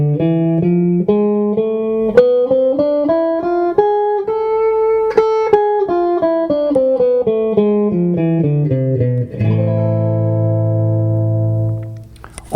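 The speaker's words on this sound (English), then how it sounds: "This is now the A Harmonic Minor scale." A guitar plays the A harmonic minor scale one clear note at a time, rising then falling at an even pace, and ends on a sustained chord.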